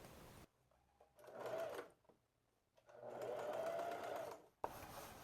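A sewing machine runs close along the edge of a blouse lining seam in two bursts of steady whirring, the second longer, separated by a quiet pause with faint handling clicks.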